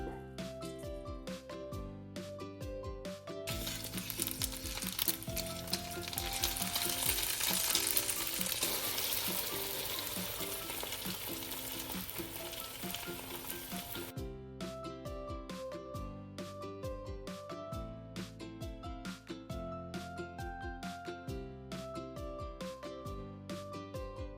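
An egg fries in a pan, seasoned with chili powder and black pepper, its steady sizzle running throughout under a constant, patterned musical backing that stays prominent the whole time.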